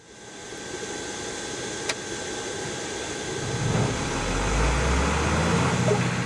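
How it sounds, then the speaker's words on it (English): An aircraft engine starting up in a flight sim, a steady whine and hum that gradually swells into a deeper low rumble as the engine spools up, with no talking. "hold down the highlighted engine start button for 4 seconds until the engine starts up"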